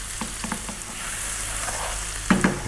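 Garlic and ginger sizzle steadily with salt in a hot pan, a continuous close frying hiss broken by a few short stirring scrapes and a louder clatter near the end.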